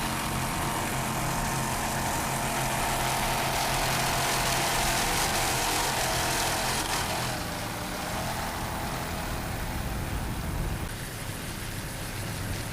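An offshore racing powerboat with twin 500 hp Mercruiser engines, competing at the 2002 Marathon Grand Prix, gives off a steady, dense roar that holds nearly constant throughout.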